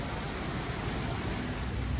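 Rain falls during a storm as a steady, soft broadband hiss with no clear individual drops or thunder.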